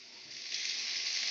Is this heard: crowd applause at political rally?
no